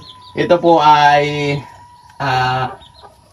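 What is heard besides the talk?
chickens clucking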